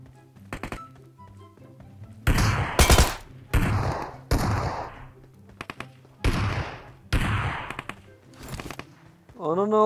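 Gunfire in PUBG Metro Royale: several sharp bursts of shots, some fast rattling strings and single cracks, spaced with short gaps, close and loud, with people talking over the game.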